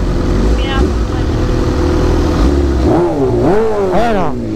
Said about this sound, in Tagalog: parang pang kotse na rin yung makina niya, kaya malakas yung tunog